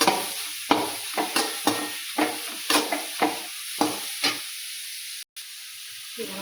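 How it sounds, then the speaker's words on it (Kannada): Radish palya being stir-fried in a hot pan: steady frying sizzle broken by a regular series of scraping spatula strokes, close and fairly loud, with no one speaking. "ಈಗ ಹುರಿ ಹಾಕ್ತೇವೆ."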